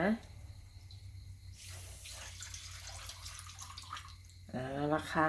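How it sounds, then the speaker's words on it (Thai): Hot cooking oil pours out of a pan in a steady stream for a few seconds, sizzling and splashing close by, with a brief spoken word at the start and end. "อันนี้ขอเทน้ำมันออกก่อนนะ"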